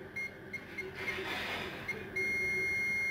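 A multimeter set to beep mode sounds several short, thin, high beeps in an uneven rhythm, then a continuous tone at the end, over quiet background hiss.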